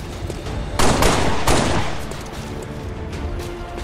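Rapid bursts of gunfire in XCOM 2 ring out loud and close, two sharp volleys followed by a fading rumble and lingering noise.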